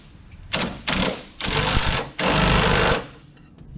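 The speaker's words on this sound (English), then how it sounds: "We got power tools." Power tool buzzing in four bursts on the suspension bolts of a C8 Corvette during a lowering spring install, loud and close, with each burst getting longer and short gaps between them.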